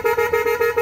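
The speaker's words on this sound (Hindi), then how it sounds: "हॉर्न बहुत खतरनाक लगा रखे हैं भाई ने" Horn on a Yamaha FZS motorcycle sounding in a steady pulsing warble, loud and close, a brief continuous blast with rapid rhythmic fluctuation.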